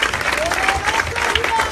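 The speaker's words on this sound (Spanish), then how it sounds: "Den un aplauso fuerte a Jesucristo en esta maravillosa tarde." Strong, steady applause fills a church service, with a continuous crowd wash of clapping and faint cheering or whistle-like voices over it.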